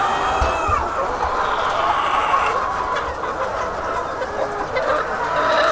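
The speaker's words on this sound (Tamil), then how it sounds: "இதெல்லாம் பிரத்யேகமாக முட்டைக்காக மட்டுமே வளர்க்குற கோழிகள்." Egg-laying hens on a poultry farm cluck steadily in a dense, continuous flock chorus, with occasional rooster-like calls rising over the constant background din.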